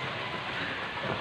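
Heavy rain falls steadily on the island of Siargao, a dense continuous hiss and patter with no breaks, fairly loud and close, with no voices over it.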